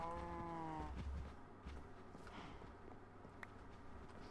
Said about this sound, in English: Let's see how 8 cows cross a bridge.